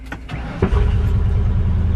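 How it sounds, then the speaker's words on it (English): A Ford Bronco Raptor truck starts up on a weak battery. A couple of short clicks and a crank are followed by the engine catching into a steady, close, low idle rumble. No one speaks. "let's see if this thing will start"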